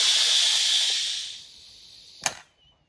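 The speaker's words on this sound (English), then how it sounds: "So the weight has dropped and all of the steam is out." A pressure cooker releases steam after its release button is pressed while braising duck legs. A loud, steady hiss fades out, followed by a brief sharp burst near the end.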